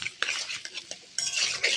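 A utensil stirs ground cumin into a curry base in a metal pan, a few distinct scraping and clinking strokes with gentle frying underneath, close and clear.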